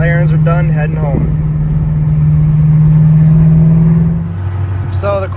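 A Shelby GT350 Mustang cruises along with a steady, loud engine drone and road rumble heard from inside the cabin, while a voice talks briefly at the start and end.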